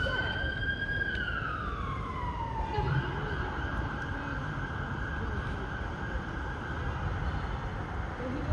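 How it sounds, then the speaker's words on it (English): A wailing siren sweeps down then holds a steady tone, sounding somewhat distant beneath a constant low rumble of city traffic at night. "hear the sirens in the background"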